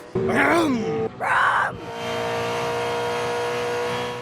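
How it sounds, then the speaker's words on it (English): Two loud, close V8 Supercars race engine revs rise and fall in quick succession at Symmons Plains, Tasmania, then settle into a steady rumbling drone. "V8 engines were the soundtrack as the Supercars circus swung into Tassie"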